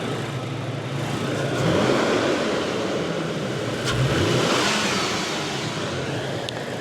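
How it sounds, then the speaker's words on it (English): A Toyota Tacoma TRD Off Road engine running at idle, a steady, loud mid-pitched rumble heard up close, with brief swells of a slight rev partway through and no talking. "So when the engine is running, the fan is on"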